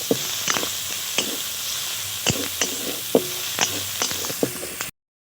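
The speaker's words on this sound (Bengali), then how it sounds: "পেঁয়াজ আদা রসুন ভালো করে ভেজে নিয়েছি" Onion, garlic and ginger paste frying in a pan, a steady sizzle broken by repeated sharp scrapes and taps of a spatula stirring, then sudden silence.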